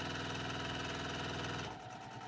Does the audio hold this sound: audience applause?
no